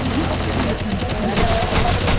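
Counter-Strike gunfire rattles in dense, overlapping bursts amid game noise, loud and continuous across the moment, with a player talking over it.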